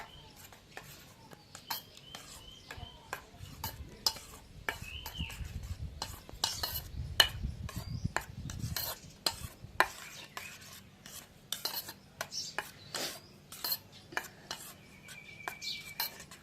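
A spoon slowly stirs and mixes a dahi vada mixture in a bowl, producing repeated soft clinks and scrapes in an irregular rhythm, with faint bird chirps in the background.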